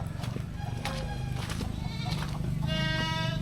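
Goats bleat repeatedly in a village pen in a remote Javanese hamlet, several overlapping calls close by over a steady rural background, with no talking.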